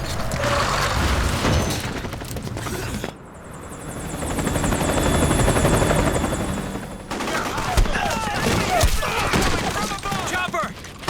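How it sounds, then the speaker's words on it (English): A helicopter in the video game Metal Gear Solid 4 drones loudly with a steady rotor roar and a high whine, surrounded by dense battle noise and rattling gunfire that swells and fades over the scene. "Chopper!"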